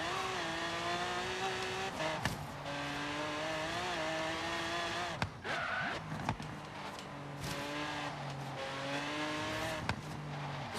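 A Lamborghini Miura racing in Forza Horizon 3, its engine droning steadily with rising and falling revs, brief tire squeals and thumps, loud and continuous with no talking.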